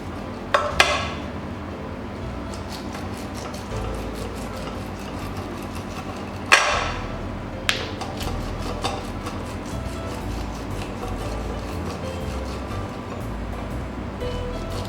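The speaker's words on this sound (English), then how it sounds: "I'll just use a knife. As you can see, I'm placing it on a bowl and I elevated it with a cup, and I will just cut through." A knife cuts raw kernels off a corn cob into a bowl raised on a cup, with a few sharp knocks of the blade against the dish and a soft, steady scraping in between.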